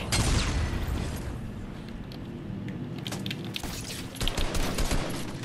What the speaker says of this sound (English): Even how powerful this mini, even how powerful this minigun is, the drum gun's still slightly more powerful